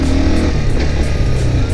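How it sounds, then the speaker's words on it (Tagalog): A 200cc motorcycle engine runs close and loud in a steady rumbling drone, with slight revving surges over its short span and no speech. "first time kong mag-drive ng ganitong motor"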